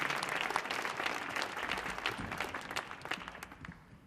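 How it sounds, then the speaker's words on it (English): An audience at a theatre performance breaks into dense, lively applause, a bright crackle of many hands clapping at once that stays strong before thinning slightly at the end. "one big round of applause for Ben Rauhala"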